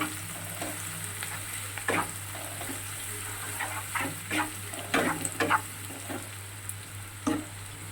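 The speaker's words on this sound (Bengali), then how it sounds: "পেঁয়াজটা ভালো করে ভাজা ভাজা হবে।" Onions fry in a pan with dried red chillies, a steady close sizzle under repeated scraping and stirring strokes of a spoon that come in uneven bursts. A low hum runs underneath.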